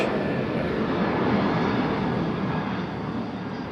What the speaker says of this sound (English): I'm close enough to the airport now that there's airplanes